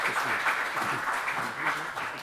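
Audience at a Korean security seminar applauds an honoured adviser, a dense, steady patter of clapping from a hall full of people, moderately loud and unbroken throughout.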